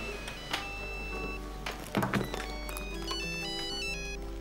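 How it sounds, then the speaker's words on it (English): A telephone rings in a room with repeated electronic trill bursts over a low steady hum, accompanied by a few thunks and clatters near the middle. "Oh, that's the phone."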